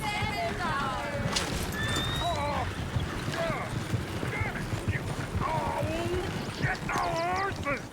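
A horse whinnies repeatedly over steady clip-clop hoofbeats in Red Dead Redemption 2 gameplay, with people talking throughout and a busy game soundscape behind.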